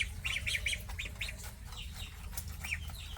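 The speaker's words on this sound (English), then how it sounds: "Ducks are testing out this pond." Young ducks, outgrowing a small container, test out a small backyard pond, giving a few high peeping calls and squeaks over a low background rumble, fairly close.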